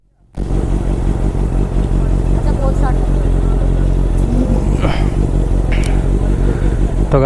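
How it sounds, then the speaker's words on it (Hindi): Honda CBR650 motorcycle engine firing up close by, then idling and revving hard through a loud aftermarket exhaust, with people talking over the engine. "तो गाइस बाइक थोड़ी सी कर दिया स्टार्ट"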